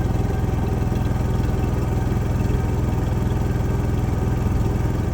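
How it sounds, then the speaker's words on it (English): A Honda EU3000 generator idles smoothly and steadily close by, its even mid-pitched engine drone holding a constant level with no speech. "I have not heard this thing idle that smoothly and that cleanly since we first bought it."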